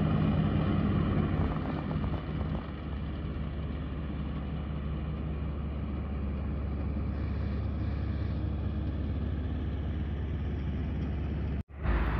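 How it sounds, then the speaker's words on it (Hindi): A tractor cuts grass at a cricket stadium, its engine a steady, loud, continuous drone throughout with no talk, briefly cutting out near the end. "सामने आप देख सकते हैं ट्रैक्टर के ज़रिए कटाई का अमल जारी है"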